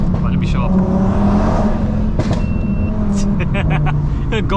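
A 650bhp Audi RS3's engine and exhaust roar loudly, echoing off nearby fences in a sustained rumble with sharp bursts, while a voice talks over it.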